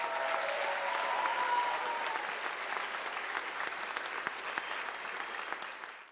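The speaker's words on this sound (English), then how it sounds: "Let's give everybody a round of applause." An audience applauds students at a school district highest-honors ceremony, with broad, even clapping from a sizable crowd that stays at a steady moderate level before tapering off at the close.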